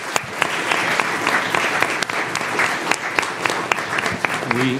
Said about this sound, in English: Let's give a huge thanks and a round of applause.